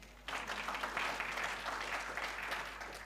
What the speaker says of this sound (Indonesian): tepuk tangan pasti.